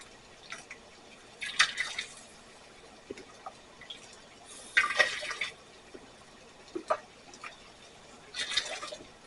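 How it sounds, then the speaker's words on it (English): Hot water is poured off boiled potatoes in a pot, coming in several separate splashing pours with short drips between them, at moderate volume against a faint background hiss. "I'm going to take a little bit of water off of those"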